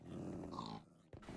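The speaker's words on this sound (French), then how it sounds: "On a un chien jusque là" A dog growls in the Minecraft modpack Regrowth, a low rumbling snarl that runs steadily for about a second, fairly loud and close, before fading.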